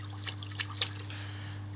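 A dirty aquarium filter sponge squeezed out in a bucket of water gives soft trickles and drips, quiet and close, over a steady electrical hum.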